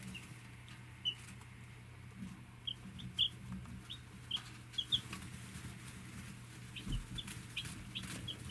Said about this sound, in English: Day 2 with the new chicks.